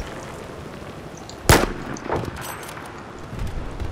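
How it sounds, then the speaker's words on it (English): A single sharp Battlefield 4 gunshot cracks loudly during a sniper battle, followed by fainter distant shots and a low rumble of background noise. "I hear shots next to me."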